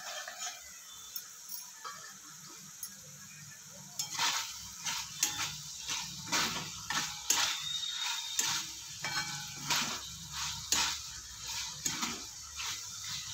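Bitter gourd curry being stirred in a pan, with steady sizzling and a run of rhythmic scraping strokes from about four seconds on, close and fairly loud, with no talk.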